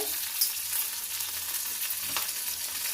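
Dried red chillies and green chillies frying in hot oil for a mint chutney, giving a steady close sizzle with a few faint stirring scrapes and no talking.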